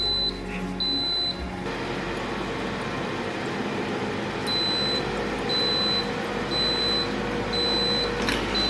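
High electronic beeps from an Instant Pot air fryer lid control panel, set to broil at 400 Fahrenheit for 20 minutes while baking bread, repeating as short evenly spaced tones over a low steady hum.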